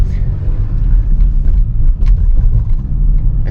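A 2012 Volkswagen Touareg V6 TDI diesel engine drones with a deep, steady rumble from inside the cabin, loud and continuous, with a voice speaking over it.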